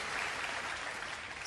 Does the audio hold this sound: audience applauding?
yes